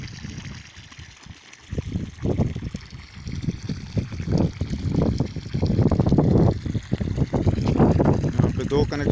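Water from a solar-powered tube well in Turbat, Balochistan, pours into a pond with a close, uneven splashing and gurgling that grows fuller and louder after the first couple of seconds, someone talking over it.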